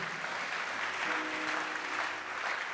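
Congregation applauding during a French-language church service, a dense, steady wash of clapping that holds at an even level for about three seconds.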